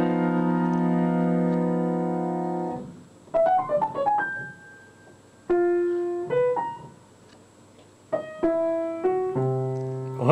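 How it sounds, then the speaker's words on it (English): A twelve-tone serialist music excerpt: a sustained harmonic chord, then sparse, disjointed tones in stepping, angular patterns with pauses between phrases, ending in layered held pitches, with no voices. "let's hear a 12-tone song"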